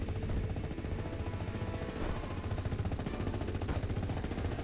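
Dense, continuous machine-gun fire fills a World War II strategy game battle, with rapid bursts layered over steady rumbling combat noise and occasional louder reports, loud and unbroken throughout.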